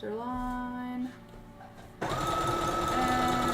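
A sewing machine stitches a zigzag seam down the center line of a dress in two close, loud bursts of steady whirring, separated by a brief pause.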